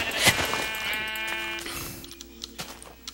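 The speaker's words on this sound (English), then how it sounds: "Shut up, sheep." A sheep in Minecraft bleats once loudly and close, a wavering nasal cry lasting over a second, followed by quieter footsteps and small thuds.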